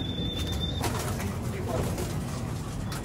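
Pigeon at a loft, with soft cooing and brief wing flutters. A high whistle-like tone early on, people speaking nearby and steady outdoor background noise.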